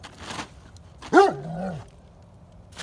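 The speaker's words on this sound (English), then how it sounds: "Back off, puppies." A short, close puppy bark with a growly, yipping edge sounds once amid quiet, with faint rustling before and after.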